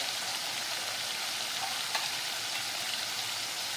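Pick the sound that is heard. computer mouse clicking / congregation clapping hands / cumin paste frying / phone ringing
cumin paste frying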